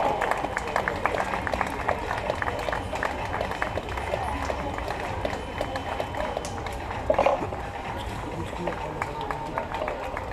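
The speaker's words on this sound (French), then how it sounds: "Allez, on les applaudit bien fort" Spectators at the finish of a road race applaud runners, with scattered clapping and cheering amid footsteps and crowd noise, while a voice talks over it.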